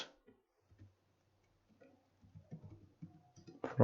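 A computer keyboard being typed on while entering a SQL query gives sparse, light key taps with pauses, growing denser and louder in a short burst at the end.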